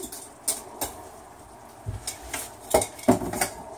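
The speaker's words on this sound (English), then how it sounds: "so then you mix all of this up" Cabbage tossed with kimchi seasoning in a bowl gives a few scattered clinks and scrapes of utensils against dishware, quiet and irregular with short gaps, no voices.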